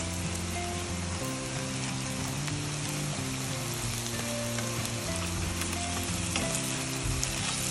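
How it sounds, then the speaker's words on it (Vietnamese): Sticky rice cakes with mung beans fry in a shallow layer of oil, giving off a dense, steady sizzle and crackle that stays loud and close the whole time, with no talking. "mình chiên dầu ít như vậy được rồi, cho nó khỏi thấm vô nhiều."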